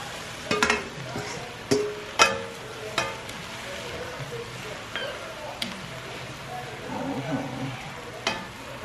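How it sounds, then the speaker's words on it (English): Turkey sausage hitting a pan of fried cabbage, a quiet sizzle under several sharp clanks and scrapes of a utensil against the pan, with no talking. "And now I'm going to add my sausage."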